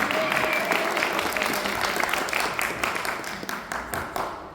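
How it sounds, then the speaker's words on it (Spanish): Audience applause at a lecture on stage aesthetics, many hands clapping loudly at first, then thinning into scattered individual claps as it fades out. "Otro aplauso."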